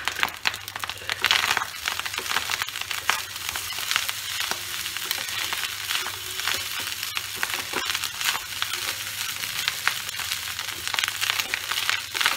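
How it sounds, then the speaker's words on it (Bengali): Peanuts dropped into a hot pan of Bengali fried rice (bhat bhaja) give off a steady, dense sizzle with crackles and scraping stirs running through, close and fairly loud, with no talking. "এবার আমি বাদামগুলো দিয়ে দেব।"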